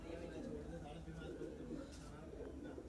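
Madrasi pigeons coo softly and repeatedly in a loft in Sakurpur, Delhi, a low steady murmur under a busy background with occasional faint higher calls.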